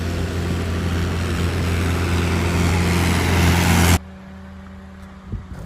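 A tractor hauling tea leaves on a road in Munnar rumbles loudly and close with a steady low engine drone. It cuts off sharply near the end, leaving a quieter hum and a faint knock.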